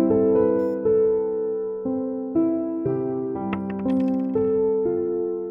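A single coin dropped as an offering at a temple, sounding as a bright metallic ring over a sustained harmonium-like musical tone that plays throughout.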